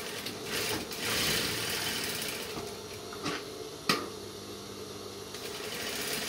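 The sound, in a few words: sewing machine stitching the edge of a side pocket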